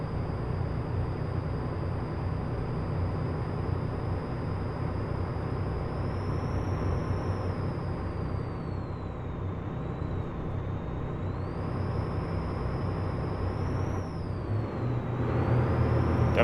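A truck engine in American Truck Simulator drones steadily under a high whine that bends up and down in pitch as it revs, with a louder swell near the end.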